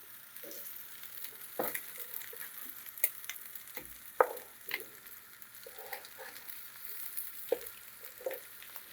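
A haddock fillet sautéing in a pan after being turned over, with a low steady sizzle and scattered soft scrapes and taps, fairly quiet and without talk.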